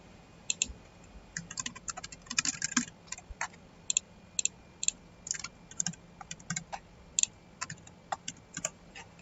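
Typing on a computer keyboard while entering an identification number for a web application login, irregular bursts of light, close clicks and taps with short pauses, no talk.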